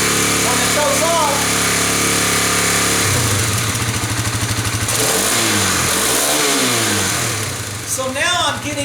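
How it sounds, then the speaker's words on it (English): A parked Kawasaki KLX 250 dirt bike with suspected carburetor trouble sits in neutral. Its engine idles, then is gunned through a few rising and falling revs, with a brief voice heard close by. "when I gunned it, you heard the RPMs go up to 7, 8, or 9"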